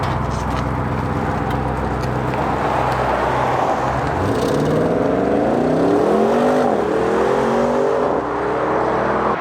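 A 2021 Audi RS6 fitted with a Milltek exhaust approaches and drives past, its engine note rising and swelling as it revs through the gears. The pass is loud and close, with no one talking.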